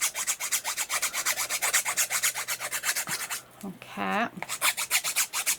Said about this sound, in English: I think I'm going to file it rather than use my deburring tool